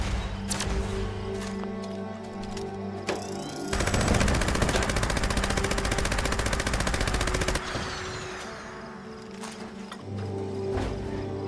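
The Holy Fire weapon fires in Fallout 76 as one loud, rapid, sustained burst lasting about four seconds, between quieter game ambience.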